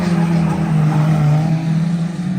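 A modified car in a Junior Special build revs its engine hard in a steady, loud drone while its tires skid and squeal beneath it, continuous and close with no voices.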